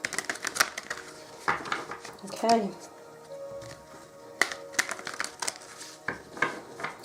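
Tarot cards shuffled by hand in clusters of crisp riffling and flicking bursts, close and moderately loud, with a brief spoken word in between.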